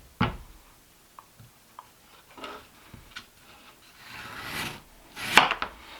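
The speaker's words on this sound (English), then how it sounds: "So can it still chop the potato?" A Ronco Six Star all-purpose knife cuts through a potato after slicing aluminum cans, giving sparse soft knocks and scrapes followed by a longer sawing rub and a final sharp crunch, close and fairly quiet.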